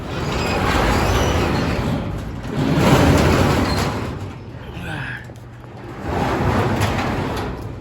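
Barn shop door being opened, a long rumbling slide that rises and falls in waves with a brief rattle partway through, fairly loud and near.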